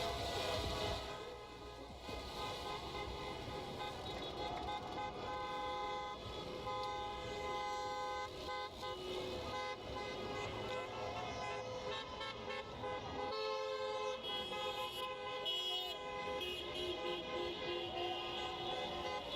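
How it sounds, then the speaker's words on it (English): Car horns blare continuously in a street, several overlapping tones honking loud and sustained for the whole stretch with traffic noise underneath. "Got a reminder too, just how loud car horns are."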